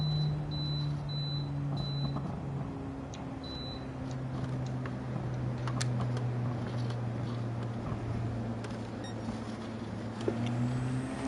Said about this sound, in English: If you hear any beeping in the background,